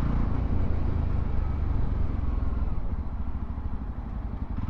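A Yezdi Roadster motorcycle being ridden, its engine running in a steady, loud, close rumble for the whole stretch, with wind and road noise mixed in and no talk.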